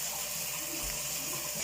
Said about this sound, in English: We're gonna turn the water on and get it going.